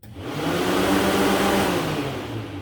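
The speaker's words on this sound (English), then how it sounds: "let's see if the fans kick on" Electric cooling fans on a 1969 Pontiac switch on and spin up into a steady, close whooshing roar with a low motor hum, holding level for a couple of seconds after a quick start.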